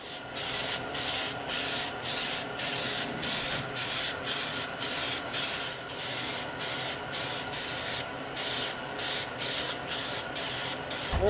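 Rapid, steady bursts of a spray can lay a second coat of paint on the headlight housings of an Infiniti G35, the close hiss pulsing in an even rhythm across the whole stretch.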